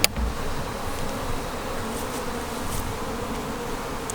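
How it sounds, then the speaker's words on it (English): Honey bees buzz steadily inside a hive feeder as they crawl up through the central feed hole to the syrup, a close, continuous drone with no voices. "here you can see the bees coming up through the central feed hole and going down to the syrup without being at all disturbed by me"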